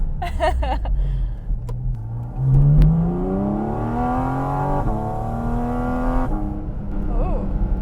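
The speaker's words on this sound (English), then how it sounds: "I love those little downshifts. They sound awesome." A Porsche Cayman GT4 RS engine revs and drops through a couple of quick downshifts, its pitch rising and falling over a steady road rumble, close and fairly loud.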